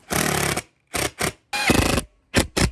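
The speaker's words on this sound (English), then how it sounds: "let's screw the rest of the screws in." Power driver running screws into a seat bracket of an abandoned Ford Ranger pickup, five close, loud whirring bursts of varying length separated by short pauses.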